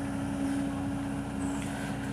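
A Sany SY215C Super ACE excavator with a four-cylinder engine drones at a steady idle, a constant low hum with a fixed tone that stays even throughout, with no speech.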